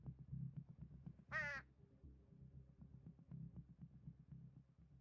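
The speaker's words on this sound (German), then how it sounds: "Immer noch diesen komischen Vogel." A bird cries once in the video game Night of the Dead, a short, wavering, rising-and-falling call that stands out clearly over a constant low rumbling game background.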